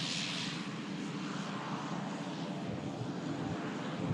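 An Irish Air Corps aircraft at Manchester Airport gives a steady, broad engine roar at moderate distance, holding a constant level throughout with no voices.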